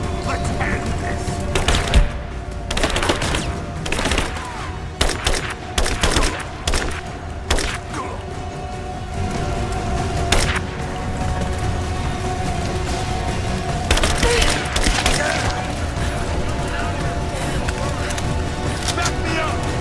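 Combat gunfire from Rise of the Tomb Raider: rapid bursts of cracking shots and thumping booms, with loud clusters of fire early and late and a steady background rumble, mixed under shouted talk.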